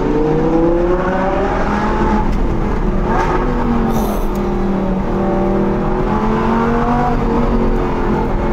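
Audi R8 V10 Plus with a naturally aspirated V10 accelerating on a highway, rising engine tones climbing through several gear pulls, loud and close from inside the car.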